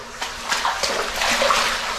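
Water streams steadily through an underground tunnel like a small brook, a continuous close splashing rush with no talking.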